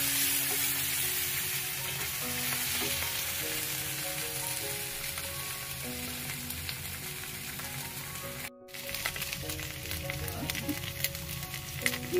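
Spice masala sizzles in a pan with tomato sauce added, giving a loud, continuous frying hiss with stirring scrapes. A brief dropout occurs near the end, then the sizzle resumes.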